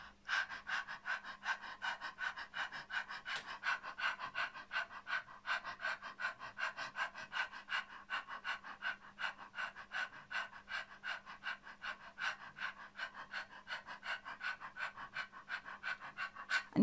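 Rapid, even panting from a classical singer doing a breathing exercise, inhaling and exhaling in equal measure through a relaxed open mouth, steady and close for the whole stretch with no talking.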